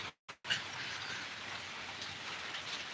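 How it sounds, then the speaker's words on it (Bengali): Rain falling near a balcony during a power cut: a soft, even patter and hiss that starts after a brief silent gap and continues steadily and faintly, with no voices. "এখানে বৃষ্টি হচ্ছে বারান্দাটায় বসে আছি"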